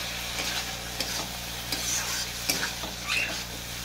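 Ground cumin, coriander and black pepper are sautéed in a pan for a jackfruit and prawn curry, with quiet, close spatula scrapes and a low sizzle at a gentle, uneven pace.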